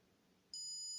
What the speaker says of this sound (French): la sonnerie, elle sonne